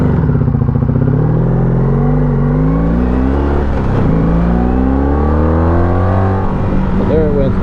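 A 1984 Honda Sabre VF1100 V65 motorcycle engine revs up and down while riding, its loud engine note climbing and falling in steady harmonic sweeps, close and continuous throughout.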